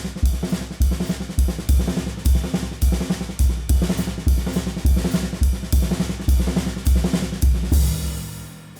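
Fast paradiddle-diddle sticking on an Adams Air Z drum kit, with the last note of each group moved to the bass drum, playing as a dense, loud, continuous rhythmic pattern of rapid strokes and deep kick thumps, with no voices.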